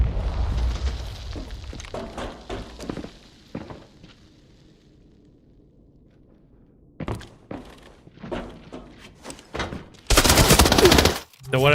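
Gunfire in the shooter game Arena Breakout Infinite: sharp shots and short bursts at the start, a quiet stretch, then scattered shots building to a loud, dense burst near the end.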